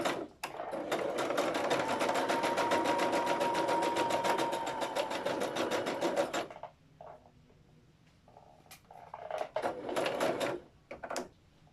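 A sewing machine stitching a petticoat runs in one steady, loud, rapid whirring burst for about six seconds, then stops, followed by quieter fabric handling and a few brief mechanical clicks.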